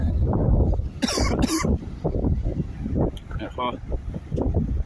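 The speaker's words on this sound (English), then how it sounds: "I've got a dry cough, it's annoying." A couple of short, dry coughs burst out close to the microphone amid a voice talking and steady wind noise.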